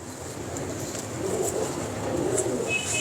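Champion racing pigeons coo in a loft in Lahore, a steady murmur of soft low calls running throughout over light background noise.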